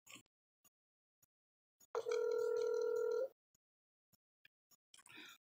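A single steady telephone ringback tone from an unanswered call sounds for about a second, then is followed by quiet with faint clicks and a soft voice.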